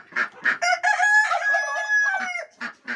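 A rooster crows loudly and close, one long drawn-out cock-a-doodle-doo framed by short clucks from farm fowl gathering to feed.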